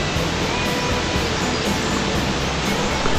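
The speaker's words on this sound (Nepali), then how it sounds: "सर्लक्कै झरना चाहिँ मजाको देखिएको रहेछ" A waterfall beside a hillside trekking trail pours with a dense, continuous rushing roar, loud and unbroken throughout with no voices.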